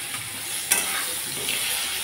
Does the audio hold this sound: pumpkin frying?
yes